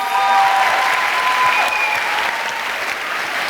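Applause from the audience at a psychology talk on sexuality (MSCD 2015), a steady, dense clapping that fills the whole stretch at even loudness with a few whistles or cheers riding on top.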